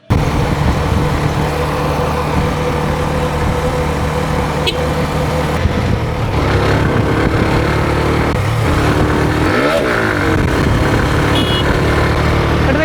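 A motorcycle runs steadily along a road on hilly Maheshkhali island, its engine a continuous close drone with wind rush and another vehicle briefly passing partway through.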